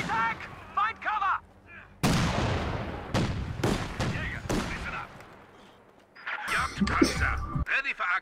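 Loud cannon blasts in Company of Heroes 2, a crewed 57mm anti-tank gun firing at a building: sharp repeated booms with long rumbling tails amid battle noise, with in-game voice callouts around them.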